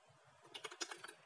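Quick keystrokes on a computer keyboard, a short burst of light close clicks in an uneven rhythm while a file name is entered, with no voices.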